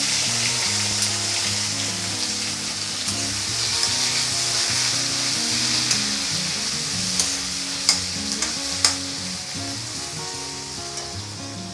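Two medium-sized cut tomatoes with a little salt sizzle and fry in a pan, with a steady crackling hiss throughout. A utensil scrapes and stirs them, adding scattered clicks and a few sharper knocks near the end.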